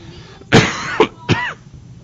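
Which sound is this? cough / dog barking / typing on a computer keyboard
cough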